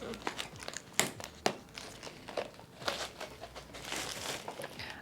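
Packing tape being cut and crinkled while repotting houseplants, a run of close crackling, tearing and rustling bursts with a few sharp snaps, under faint talk.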